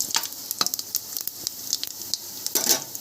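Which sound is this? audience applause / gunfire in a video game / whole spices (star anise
whole spices (star anise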